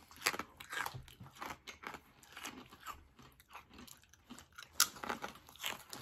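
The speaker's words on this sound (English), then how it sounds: "Crunchy rings made from corn and infused with savory and smoky barbecue" Crunchy corn rings with barbecue flavour are bitten and chewed close to the mic, giving a steady series of sharp crackling crunches with irregular rhythm and no talk.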